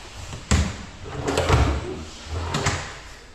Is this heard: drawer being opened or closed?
yes